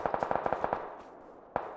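Video game gunfire: a quick burst of about eight sharp automatic shots in steady rhythm, then a pause and one more crack, moderately close and clear with no talking.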